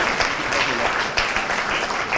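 An audience at a panel discussion applauds in a steady wash of clapping, with a voice speaking over it.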